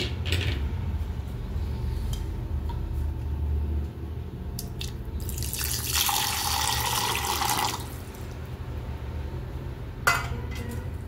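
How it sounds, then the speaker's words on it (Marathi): Water is poured into yogurt to make buttermilk. A splashy pour of about two seconds comes mid-way over a quiet kitchen background, followed later by a small clink. "यात मी पाणी घालून घेणार आहे."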